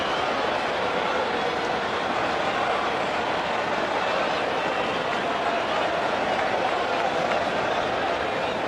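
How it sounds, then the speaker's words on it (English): A capacity crowd roars at the Wanderers cricket stadium during an India Test match, a broad, sustained wall of cheering that holds loud and steady throughout. "Loud cheer again from the capacity crowd of the Wanderers"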